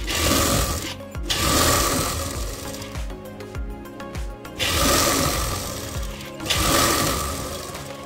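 A sewing machine stitching fabric for a circle palazzo, running in loud, rapid mechanical bursts of several seconds each, separated by short pauses, close and alone.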